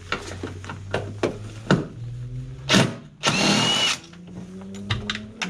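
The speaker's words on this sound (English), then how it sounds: "Should be able to get them out with ratchet, with an impact" An impact wrench works on 10mm bolts of a 2007 VW Beetle, giving short close mechanical bursts and one longer loud rattling run, with no one speaking.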